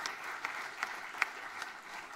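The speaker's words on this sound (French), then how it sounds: "Encore un peu d'applaudissements pour elle, s'il vous plaît." Audience applause at a regional sports merit awards ceremony, honouring a young Swiss U16 athletics champion; steady, fairly soft clapping from a crowd with a few sharper individual claps standing out.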